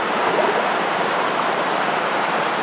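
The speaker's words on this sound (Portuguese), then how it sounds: "Tem uma queda de quase 25 metros de altura à espera do visitante." Waterfall almost 25 metres high, a constant loud roar of falling water with no pauses, filling the whole scene close by.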